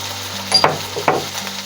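Chopped tomato and onion fry in a pan, a soft steady sizzle broken by a few louder stirring scrapes and clatters, heard close with no talking.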